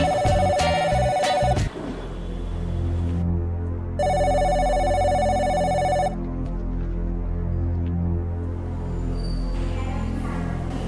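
A telephone rings in two bursts of electronic trilling, with a low steady hum and faint background murmur filling the gaps between rings.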